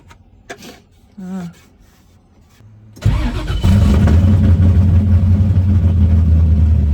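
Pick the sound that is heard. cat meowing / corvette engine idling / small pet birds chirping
corvette engine idling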